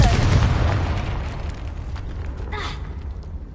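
A Confringo spell explosion in the video game Hogwarts Legacy, one loud blast fading into a rumbling tail that softens over a few seconds.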